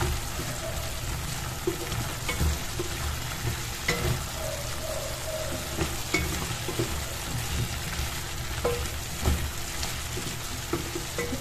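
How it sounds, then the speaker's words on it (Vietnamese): Potatoes with garlic being stir-fried in a pan, a steady close sizzle with scraping stir strokes and occasional clinks of a utensil against the pan throughout, no voices. "đảo đều lên cho nó ngấm nhé."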